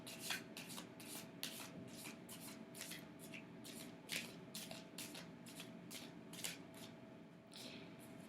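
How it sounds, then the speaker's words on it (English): Deviant Moon tarot cards being handled and shuffled, a steady run of soft papery riffles and slaps repeating through the stretch over a low room hum, close and alone with no talking. "let's start pulling out cards from Deviant Moon that will clarify these 5"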